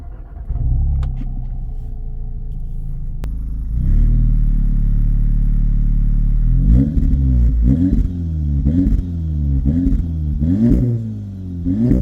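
An Audi S3 started with a key fires up into a deep, loud idle rumble, then is revved repeatedly in quick rising-and-falling bursts, close and alone without talk.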